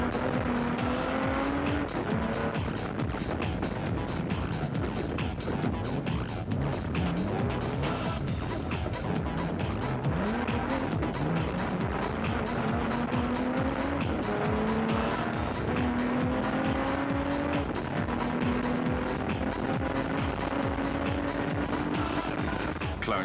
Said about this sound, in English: the production cars were coming into their own on the latter parts of the route and picking off the specials, as Woolridge and Schothammer gave us a demo